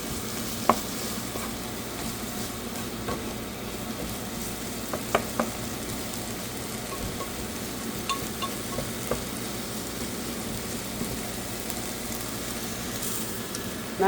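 Onions and diced habanero pepper are stirred in a frying pan, giving a steady sizzle under continuous scraping and stirring, with a few faint clinks of the utensil against the pan and no talk.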